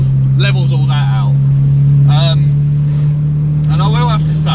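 Steady engine drone and road rumble inside a slightly modified 2003 Toyota Yaris T-Sport 1.5 cruising along a smooth B road, a constant low hum with someone talking over it.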